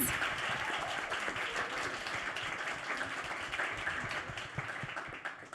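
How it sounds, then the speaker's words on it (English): A room of documentary professionals at a Cannes Docs talk claps for the team, giving a dense, continuous round of applause from many people that holds steady and fills the space throughout. "Let's give this team a huge round of applause."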